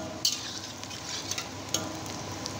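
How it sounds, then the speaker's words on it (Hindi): Potatoes deep frying in oil for aloo masala give a steady, soft sizzle with a few light stirring clinks, close and even, with no talking. "तो पहले आलू को फ्राई करके ले रहा हूँ, देख सकते हैं, डीप ऑयल से अच्छे फ्राई कर लूँगा इसको।"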